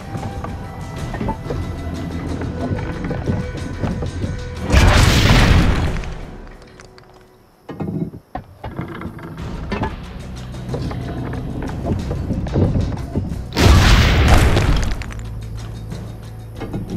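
Gunshots at target dummies in Assassin's Creed Brotherhood: two loud, broad booming blasts several seconds apart over steady game ambience, with no talking.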